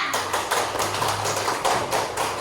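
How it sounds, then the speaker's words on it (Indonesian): A classroom of students claps hands for a classmate, a dense run of overlapping claps in several bursts, close and steady, with no talking over it. "kasih dulu tepuk tangan temannya"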